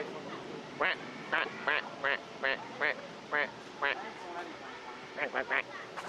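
Ducks at Disneyland quack in a series of loud, nasal calls, singly and in quick clusters, close by over water and ambient chatter, with a brief spoken remark.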